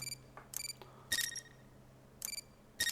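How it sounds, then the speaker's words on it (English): A synthesized camera shutter click sound effect, built in Unreal Engine 5 MetaSounds, fires as several short, sharp clicks at irregular intervals over a faint steady hum, with no voices. "camera shutter, click"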